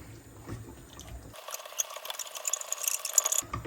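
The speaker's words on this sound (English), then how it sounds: "Keep mixing till all the lumps have gone." Milk is stirred into a thick cheese sauce in a pan for cauliflower cheese, with close, faint wet swishing and scraping that grows busier and more liquid partway through, with no speech.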